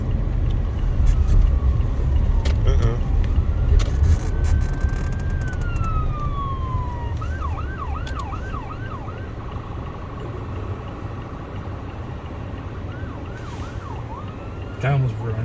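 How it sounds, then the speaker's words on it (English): An ambulance siren passes close by a car on the road, wailing in rising and falling sweeps over loud engine and road rumble, with several whooping yelp bursts later. "We just had an ambulance going by."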